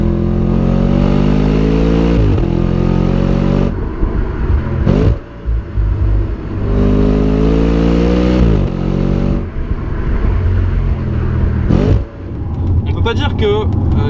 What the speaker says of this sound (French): On peut pas dire que les vocalises du moteur sont impressionnantes.